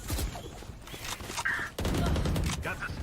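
Gunfire in the Valorant tactical shooter, a few sharp shots followed by a louder sustained burst of firing, with game sound effects and crowd-like background noise throughout.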